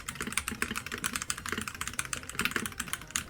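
Fast typing on a MelGeek MADE84Pro mechanical keyboard, with dense, clacky keystrokes rattling in a quick, irregular stream at close range and no voices.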